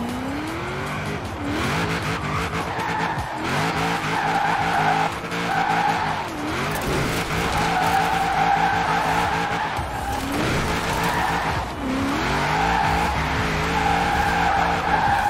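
A Nissan 350Z drifting in Forza Horizon 4, its tires skidding and squealing in long sweeping waves over a loud, continuous engine roar with repeated revving rises and dips.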